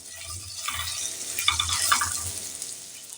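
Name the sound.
fennel and asafoetida tempering frying on low heat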